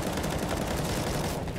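Rapid automatic rifle fire in a Counter-Strike match, a dense continuous burst of shots filling the short moment at steady loudness.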